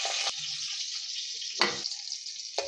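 Chopped onion and green chili fry in hot tempering oil with mustard seeds and cumin, giving a steady close sizzle broken by brief stirring clatters.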